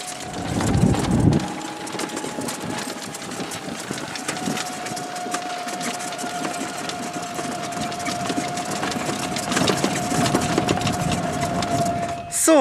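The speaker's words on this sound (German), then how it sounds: "jetzt fahren wir gleich zum nächsten Loch. Natürlich schön im Golfkart" Golf cart driving on a golf course in the Zillertal, its steady motor hum and a whining drive tone running continuously while the cart rolls along outdoors.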